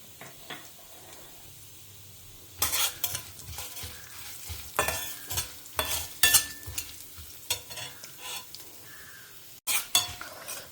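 Cumin seeds and fenugreek sizzle in hot oil while a spoon scrapes and stirs the pan, the crackling rising in bursts between quieter pauses for a home-cooked Tamil lunch.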